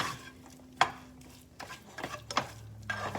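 Eggs being mixed in a bowl for cooking: a few sharp clinks and knocks of utensil against the bowl, with soft scraping and stirring between them, close up and fairly quiet, no voices.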